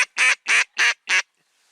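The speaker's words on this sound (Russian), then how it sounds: "Ну, утки летают." Five loud, evenly spaced quacks from a mallard duck, close by, during a spring drake hunt with a decoy duck; each call is a harsh burst, followed by quiet.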